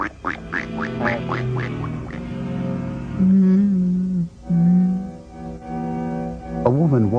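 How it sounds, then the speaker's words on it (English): Duck quacking, with a rapid run of nasal quacks at the start followed by longer drawn-out honking calls and a final burst of quacks, loud and close with no talking. "Quack."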